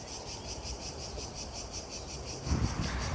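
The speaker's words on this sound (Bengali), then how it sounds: "এখানে কত সুন্দর ঝিঝি পোকার ডাক" Steady, pulsing chorus of crickets chirping outdoors, continuous and moderately loud, with a brief low rumble partway through.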